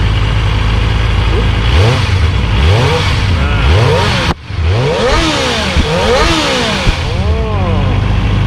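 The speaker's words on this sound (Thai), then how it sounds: "อันนี้คือท่อเดิมนะครับ" A new 2021 Kawasaki ZX-25R motorcycle with its stock exhaust revs repeatedly in short blips that rise and fall, close and loud, over a running idle with a brief break midway.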